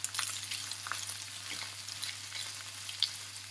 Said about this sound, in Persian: فلفل دلمه‌ای نباید زیاد تفت بخوره